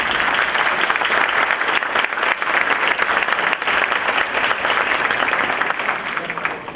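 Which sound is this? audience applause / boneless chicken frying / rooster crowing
audience applause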